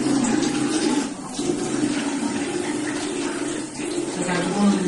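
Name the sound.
washing dishes with running tap water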